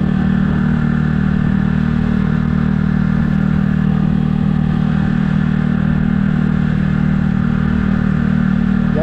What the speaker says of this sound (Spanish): de este breve paseo en moto por estas calles aquí de Tuticalpa